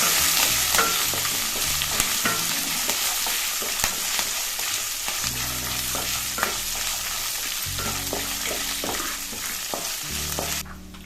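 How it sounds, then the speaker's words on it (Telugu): A tempering of slit green chillies and dried red chillies frying in oil for gongura pulihora makes a loud, dense sizzle with repeated spoon scrapes and clicks against the pan, close up and continuous, without speech. "ఇందులోనే ఒక మూడు పచ్చిమిర్చి ఇలా పొడుగ్గా చీల్చుకున్నవి ఎండుమిర్చి కూడా వేసుకుని బాగా వేయించుకోవాలి"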